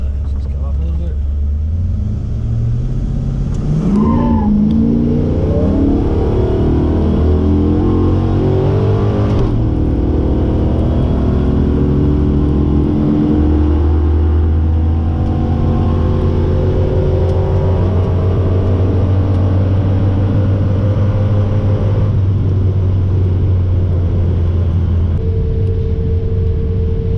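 A Ford XG ute launches off the foot brake on a drag run, its engine roaring loud and close as it climbs through rising revs with clear gear changes and a sustained hard pull to the end.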